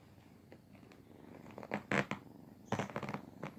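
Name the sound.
cat purring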